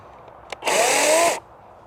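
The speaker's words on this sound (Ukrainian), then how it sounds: "Перевіримо аварійне гальмо." A Litheli cordless battery chainsaw spins up sharply to a loud high whine for under a second, then stops abruptly as its emergency chain brake engages, with quiet before and after.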